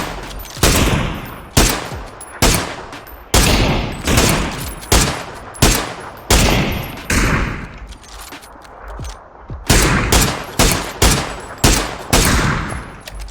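Rapid bursts of gunfire crack repeatedly and loudly in the video game PUBG, in uneven clusters of shots with short pauses between.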